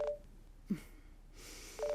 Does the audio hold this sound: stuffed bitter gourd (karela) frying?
no